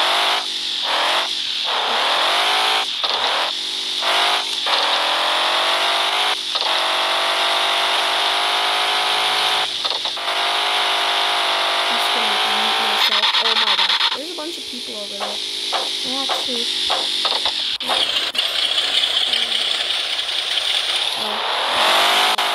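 A truck engine in the off-road video game Offroad Outlaws drones and revs steadily, its pitch rising and falling, with brief clunks and rattles breaking through the continuous loud motor tone.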